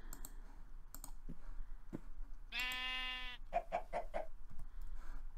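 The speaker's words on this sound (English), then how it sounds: "I can hear sheep everywhere" Synthetic-sounding Minecraft sheep bleats, one long wavering baa followed by a quick run of shorter bleats, set among scattered clicks and taps.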